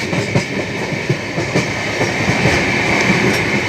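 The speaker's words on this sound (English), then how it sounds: "the train is in good speed" Loud, steady roar of a Rajdhani Express passenger train moving fast between Durgapur and Sealdah in India, heard from inside, with rhythmic clickety-clack of wheels over rail joints.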